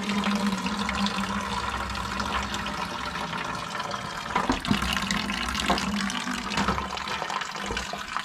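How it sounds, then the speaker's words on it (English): Water drains from a freshly cut PEX pipe during a DIY plumbing repair, a steady close rush and trickle running continuously without talk. "Okay, so I got that cut and this is draining now."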